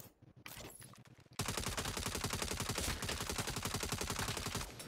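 Rapid automatic gunfire from the Saints Row video game, a fast, loud, continuous burst of shots after a quieter opening with scattered sounds.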